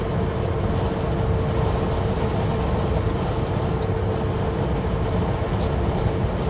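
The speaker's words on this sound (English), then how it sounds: "I went to full engine brakes." A truck rolling on a snowy winter road under full engine braking, a steady loud low rumble with a constant droning hum and no breaks throughout.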